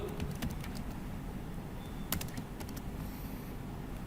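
Typing on a computer keyboard while entering PHP code, heard as scattered clicky keystrokes in small bursts, close and fairly soft over a steady background hum, with no talking.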